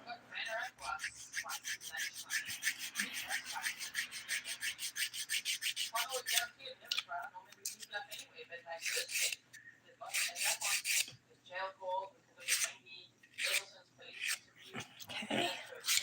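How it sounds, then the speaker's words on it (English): Fingernail being filed with the finer 180-grit side of a nail file, a steady close rasping stroke repeated rapidly for several seconds, then slower irregular strokes, with speech in between. "using the 180 grit side of my file, that's the finer grit"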